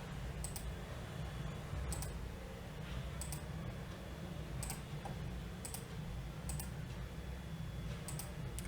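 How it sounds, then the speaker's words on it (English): Sharp mouse clicks in CATIA V5 CAD software, a scattered series of about eight crisp, close ticks spaced irregularly over a steady low room hum, with no voices. "I will just double click on the eraser"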